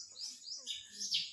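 A small bird chirps several quick, high tweets in a short burst, close and clear against a quiet background.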